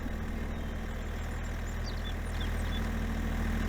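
A truck engine in Farming Simulator 22 idles as a steady, loud, low drone that runs unbroken for the whole stretch, with no talk over it.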